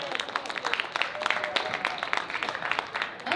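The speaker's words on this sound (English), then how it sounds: "give a round of applause for Mark" An audience at a Philadelphia pro football panel applauds, a dense patter of clapping hands that flutters unevenly throughout.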